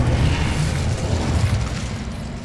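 An Incendio fire spell cast in Hogwarts Legacy, heard as a continuous low, roaring whoosh with a rumbling, booming body that stays loud and steady throughout.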